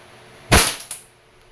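A WE Airsoft 4.3 Allosaurus gas airsoft pistol fires with a loud, sharp close pop, followed a moment later by a second, softer crack.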